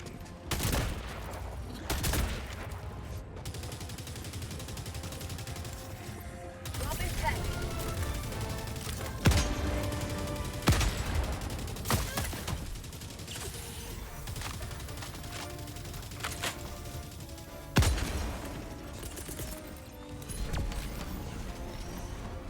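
Video game gunfire, repeated sharp shots and short bursts spread across a sustained rumbling backdrop, with some voice chat mixed in.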